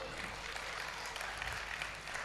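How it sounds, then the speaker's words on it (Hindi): Crowd applause at a Gujarati comedian's stand-up show at Mahavir Vatika: a continuous, fairly soft roar of many hands clapping at an even level, without talk. "जोरदार तालियां हो जाए एक बार।"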